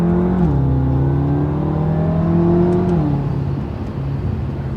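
A BMW F10 M5's turbocharged engine drones loudly with a steady harmonic hum, pitch shifting between gears as it accelerates, then eases off toward the end.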